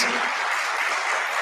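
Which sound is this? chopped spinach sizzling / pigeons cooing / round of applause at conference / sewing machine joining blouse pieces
round of applause at conference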